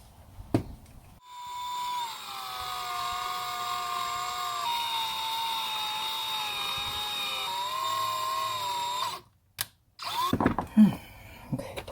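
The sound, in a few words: drill bit enlarging holes for speaker mounting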